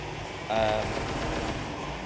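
Invisible enemies attack the player in the video game Redo! during a speedrun, giving rapid, dense bursts of crackling and clattering game noise. The sound is fairly loud and continuous and swells briefly partway through.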